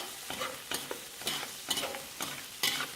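Frozen peas and carrots stir-fry in a wok with a soft sizzle, cut by a run of about six rhythmic scraping tosses of a spatula, fairly quiet and close with no voice.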